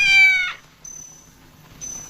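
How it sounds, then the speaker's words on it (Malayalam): A kitten lets out one high, clear meow, followed by faint thin squeaky calls in a quiet room. "It's A kitten."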